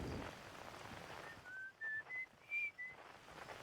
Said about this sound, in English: That's the guy whistling on the moon.